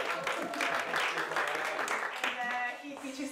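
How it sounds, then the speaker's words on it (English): An audience applauds a professor being introduced at a talk on AI and experience design, a short burst of steady, moderately loud clapping that fades slightly toward the end. "A round of applause."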